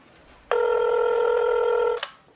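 A single electronic phone ring sounds on a mobile call, one steady buzzing tone lasting about a second and a half that cuts off abruptly, close and clear against a quiet background.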